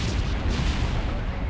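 A rocket stage crashing and exploding in Kerbal Space Program: a dense, loud, rumbling blast that fills the whole moment, booming and sustained rather than a single crack.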